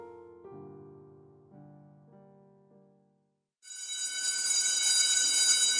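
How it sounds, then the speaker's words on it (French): A school bell: a tonal electronic chime plays a short sequence of notes, then a loud, sustained bell-like ringing starts and continues steadily. "La sonnerie retentit enfin pour les libérer des atomes"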